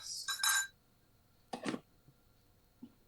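A spoon clinks against a glass holding ice cubes while stirring a matcha latte: two bright, close bursts of clinking, then a quieter pause and one soft tap near the end.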